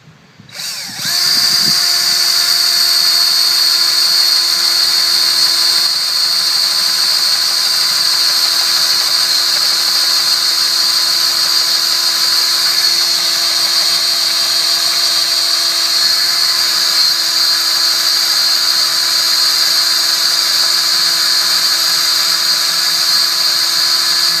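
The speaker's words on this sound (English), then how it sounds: "you want to drill straight through into that metal plate back here" A power drill whines steadily and loudly, grinding through a metal plate while fitting a Kawasaki Teryx 4 front bumper, with a sustained high-pitched tone that stays constant throughout.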